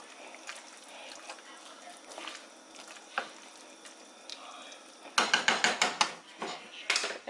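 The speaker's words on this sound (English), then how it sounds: "I'm gonna sprinkle it around and just stir it around." A spoon scraping and clinking in a pan while toasting ingredients for chicken tamales with green salsa, with soft scrapes at first and then a burst of sharp, close, rhythmic metallic clatter near the end.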